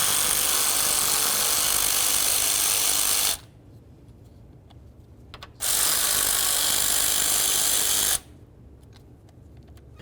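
Power tool running on fan mounting bolts during A/C condenser cooling fan work on a 1998-2002 Honda Accord, two loud continuous bursts of buzzing whir, each lasting a few seconds, separated by a quiet pause.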